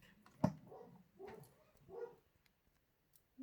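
Dogs at home give a few faint, short barks and yips, spaced roughly half a second apart, in an otherwise quiet indoor room.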